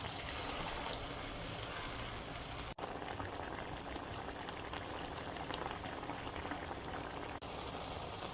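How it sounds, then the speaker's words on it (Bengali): Water sizzles and bubbles in a hot pan of prawns cooking with peas and tomato, a continuous close frothy hiss as liquid is poured in, with no talking. "এখন মাছটা সিদ্ধ হওয়ার জন্য আবার কিছুটা পানি অ্যাড করছি"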